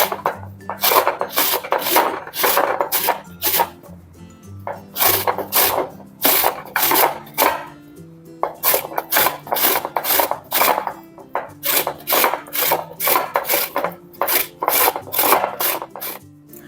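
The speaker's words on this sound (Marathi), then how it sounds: "आता आपल्याला किसून घ्यायचं आहे" Peeled raw green mangoes are rubbed against a grater in repeated quick rasping strokes, bursts of scraping grouped in runs with short pauses between, close and loud.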